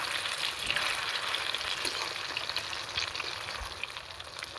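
Snakehead fish fry in a pan with a steady, dense sizzle and crackle of hot oil, faint and continuous with small pops and no voices.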